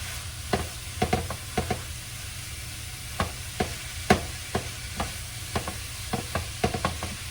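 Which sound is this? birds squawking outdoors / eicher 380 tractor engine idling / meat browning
meat browning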